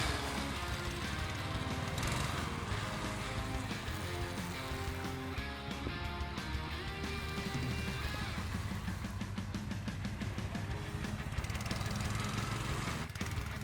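DIY homemade motorsled Omega with a 20 HP engine running, a continuous buzzing engine note with shifting revs held at a steady moderate level throughout.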